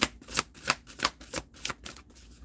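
A deck of tarot cards is shuffled in about seven quick, evenly spaced riffling bursts, close and crisp with no talk.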